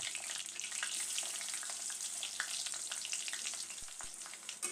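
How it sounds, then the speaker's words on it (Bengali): Chopped onions and bay leaves fry in hot oil for a mutton bhuna, giving a soft, continuous sizzle with faint spatula scrapes and a couple of light knocks near the end, no talking. "এখন খুন্তি দিয়ে ভালোভাবে নেড়ে ছেড়ে পেঁয়াজের কুচিগুলো ব্রাউন কালার করে ভেজে নেব।"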